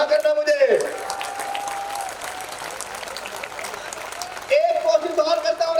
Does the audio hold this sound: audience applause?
yes